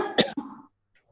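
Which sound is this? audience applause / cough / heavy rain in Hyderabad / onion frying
cough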